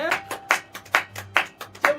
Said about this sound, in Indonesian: Tepuk tangan dulu untuk Tuhan ya.